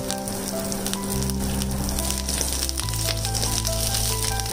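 Curry leaves fry in hot oil for prawn vadai, a loud, steady close-up sizzle with crackling pops running throughout, over a sustained tonal background hum.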